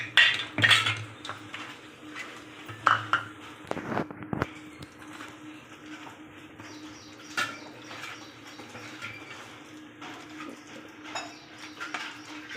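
Pieces of katla fish are mixed by hand with spices, ground ginger and a little water in a bowl, giving quiet, irregular clinks, taps and wet squelching close by, with brief louder knocks.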